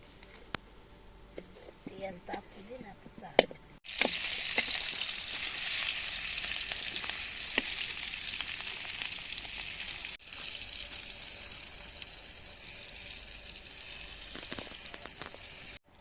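Onions fry in a pan: after a few seconds of quiet handling clatter, a loud, steady sizzle bursts in abruptly and hisses on without a break, easing slightly toward the end.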